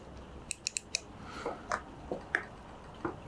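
A microswitch on a standard machine being converted to automatic, giving several sharp, close, definite clicks in quick succession, followed by softer mechanical clicks and taps from handling the parts.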